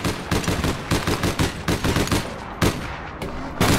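Submachine gun fire in a video game: loud, rapid bursts of automatic shots in quick succession, separated by short gaps, with no talk.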